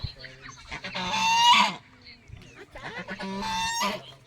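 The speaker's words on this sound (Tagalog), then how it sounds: "Sama silang gansa." Geese honking nearby on a farm in Palayan City, Nueva Ecija, in two loud bursts of harsh, overlapping calls, with quieter honks and rustling between them.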